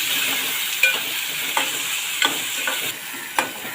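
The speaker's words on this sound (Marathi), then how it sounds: "मी एक टॉमॅटो चिरला आहे तो घालणार आहे तो पण चांगला भाजून घेणार आहे" Chopped tomato and onion fry together in a pan for a fish curry, a continuous hiss broken by several distinct spoon scrapes and taps at irregular intervals, close and clear with no talking.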